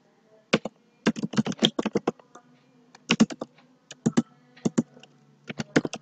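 Rapid bursts of keystrokes on a computer keyboard as a terminal command is typed, clicking in uneven clusters with short pauses between groups, close and fairly crisp with no talking.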